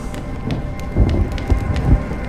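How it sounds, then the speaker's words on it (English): Steady rainfall with low rumbling thunder in the video game Honkai Star Rail, a constant hiss of rain broken by a few deep rolling booms that swell and fade. "When will this rain ever stop?"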